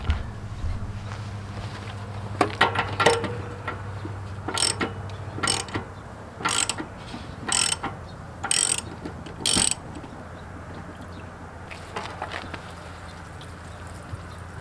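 A 1/16 inch socket wrench ratchets in short bursts of rapid clicking, several quick runs spaced a second or two apart, close and fairly loud over a low background hum while a camper is closed down for winter.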